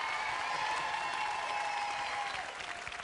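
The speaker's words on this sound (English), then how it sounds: "a round of applause for this young lady" A studio audience claps steadily, a dense wash of applause from a sizeable crowd that fades slightly near the end.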